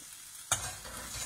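Green banana coconut curry paste stirred and frying in hot oil in a pan, a steady close sizzle that starts abruptly and continues with scraping stir noises, no talking.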